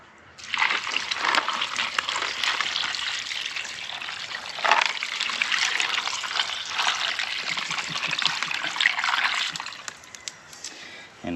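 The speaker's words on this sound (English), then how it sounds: "Another gallon of water here." A gallon of water pours into a turkey brine in a steady, close splashing stream, gurgling with brief changes in flow. It cuts off abruptly near the end.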